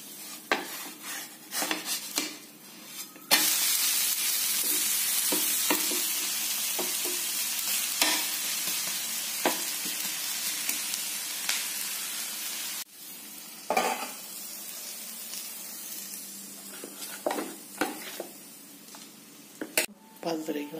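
Uthappam made from appam batter sizzles on a hot pan, a steady frying hiss running through most of the stretch, broken by utensil clinks and scraping as it is turned.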